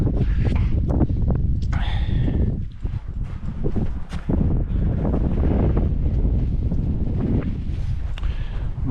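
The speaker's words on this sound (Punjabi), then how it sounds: "ਮਾੜੀ ਮਾੜੀ ਸੌਂਡ ਲੱਗਦੀ ਹੈ ਜਦੋਂ ਹਵਾ ਚੱਲਦੀ ਆ ਮੂੰਹ ਤੇ ਉੱਡ ਪੈਂਦੀ ਆ" Heavy wind buffeting the microphone on a winter hike up Mount Lawrence Grassi near Canmore, a loud, continuous low rumble with gusty surges, and muffled voices now and then.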